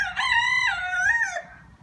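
A rooster crows loudly and close by on a farm in one long, sustained call that rises and then falls away, with faint clucking underneath.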